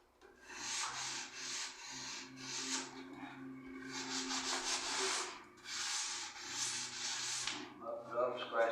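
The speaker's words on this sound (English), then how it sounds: "And I'll take a little sanding pad." Rhythmic back-and-forth scrubbing of a sanding pad over a surface, in repeated bursts with short pauses, close and fairly quiet.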